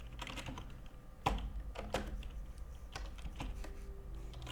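Rapid tapping on a computer keyboard while entering coordinates into a Minecraft chat box, a close, steady run of key clicks with a few sharper, louder strikes and no voices.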